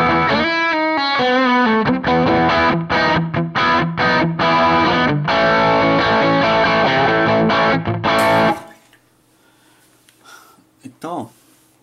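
Electric guitar played through a V8 Drive distortion pedal, with a noise gate and reverb in the chain, roars in thick sustained distorted chords and riffs for about eight seconds, then cuts off abruptly into near silence with a few faint sounds.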